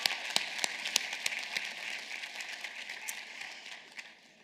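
Graduates at a business school commencement ceremony give a soft, scattered round of applause for friends and family, with distinct individual claps standing out over a thin background wash that tapers off near the end.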